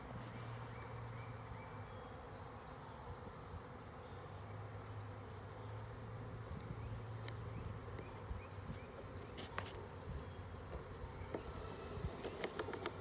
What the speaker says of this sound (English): Still a lot of bees on the ground.